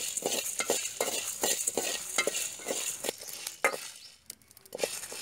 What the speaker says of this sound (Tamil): மிளகு, கொத்தமல்லி, கடலப்பருப்பு எல்லாம் நான் ஒன்றாவே போட்டு வறுத்துக்கிறேன்.